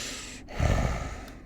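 A voice imitates heavy breathing for a creature in a tabletop fantasy game, one close, loud, rough exhale-like breath lasting about a second, alone after a brief quiet gap.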